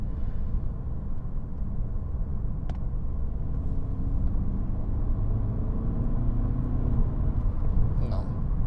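A BMW 5 Series engine pulls in fifth gear, a low steady rumble with a slowly rising drone, heard from inside the car under continuous road noise.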